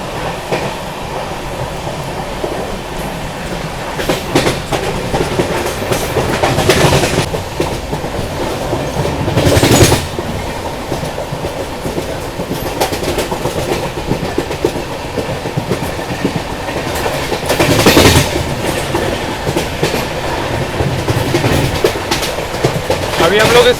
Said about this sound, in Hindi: अभी हम लोग स्किप करने जा रहे हैं छिंचवाड़ रेलवे स्टेशन